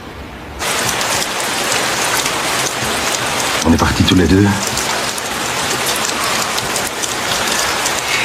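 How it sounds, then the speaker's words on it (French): Heavy rain pours down in a dense, steady hiss that starts abruptly and continues throughout, with a brief burst of speech partway through. "D'un coup, un rideau de pluie."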